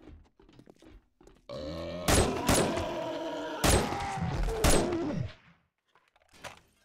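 Sniper rifle fire in the video game 7 Days to Die: several heavy, booming shots with ringing tails rise out of quieter gameplay sounds, fairly loud, then fading back to near quiet.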